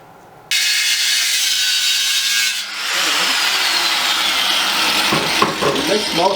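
Metal being ground with a power tool while building a forge from a propane bottle, a loud continuous rasping grind that starts abruptly and runs steadily with slight dips and scraping variations.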